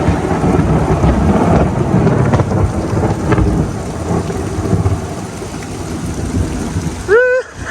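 A heavy thunderstorm on a first night in Costa Rica, with dense rain pouring steadily and deep rumbling thunder overhead. Near the end a brief rising tonal sound cuts through.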